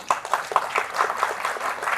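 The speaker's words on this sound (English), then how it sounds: "maybe a round of applause to all the panel members" A conference audience at a rural development event claps for the panel members, a loose scattering of distinct, uneven hand claps at moderate loudness, fairly close, with no voices over them.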